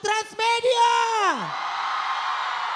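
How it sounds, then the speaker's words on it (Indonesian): A loud drawn-out shout from a host on stage slides down in pitch, then a crowd of fans at a Transmedia event breaks into a steady roar of screaming and cheering that holds to the end. "Coba teriakannya untuk Transmedia."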